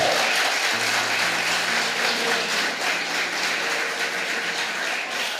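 A church congregation at a couples' gathering applauds, producing a continuous, fairly loud wash of clapping throughout, with a low sustained tone underneath.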